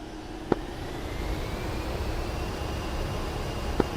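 Twin jet engines of an A-10C attack aircraft in the DCS flight simulator, running up to 80% with brakes held, a steady broad whine and rumble with two faint clicks.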